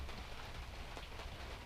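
Steady rain patters softly on the surfaces around a small moored boat, a faint, even hiss of drops with no voices.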